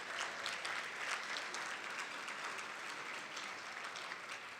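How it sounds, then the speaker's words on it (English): Dense, steady applause from a large audience at a national Native American nations conference fills the room, loud and unbroken from start to finish. "Let's give you a big round of applause."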